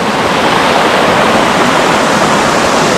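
A small, fast-flowing waterfall in a lush green forest rushes loudly and continuously up close, a dense, even roar of splashing water with no voices.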